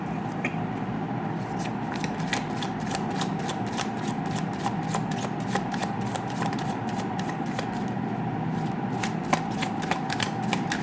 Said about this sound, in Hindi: Let me shuffle the cards.